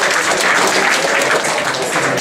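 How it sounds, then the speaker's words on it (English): Audience applause at a Mobile Monday Silicon Valley tech meetup, a dense, steady wash of many hands clapping close and loud for the full stretch without letup. "let's give a round of applause to Tim Lee for moderating"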